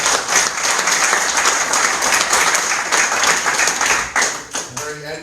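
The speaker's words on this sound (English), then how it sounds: "also a special round of applause for James Murphy" Indoor audience applause at a talk on the War of Independence in County Kildare, a sustained round of clapping from a modest crowd with distinct individual claps, thinning out and tapering near the end.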